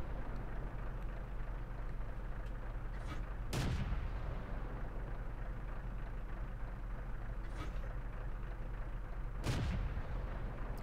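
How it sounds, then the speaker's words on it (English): Tank cannon fire in World of Tanks, from a VK 30.02 (M) medium tank blasting away cover: two sharp, loud cannon shots about six seconds apart, each with a short rumbling decay, over a constant low engine drone and faint distant gunfire. "So I'm just trying to destroy some cover here to give myself and my teammates an opportunity to shoot the tank."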